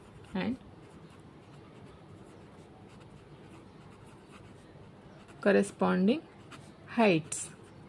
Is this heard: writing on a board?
yes